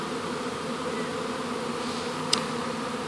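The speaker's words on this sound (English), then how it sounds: "the entourage leaving the big hive over to the bait hive has increased" A honeybee swarm moving from a big hive to a nearby bait hive makes a dense, steady buzzing drone outdoors, with one sharp brief click near the end.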